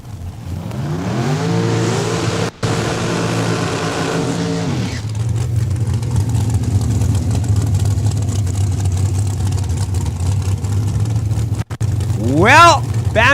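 Bantam altered and dragster launching down a drag strip at Saskatchewan International Raceway, engines loud and rising in pitch for several seconds, then a long steady roar with another engine revving up at the end.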